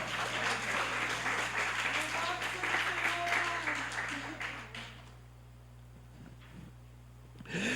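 A church congregation applauding and cheering loudly during a sermon, a dense, sustained wash of clapping that fades out after about five seconds, leaving a quiet hum with faint sounds.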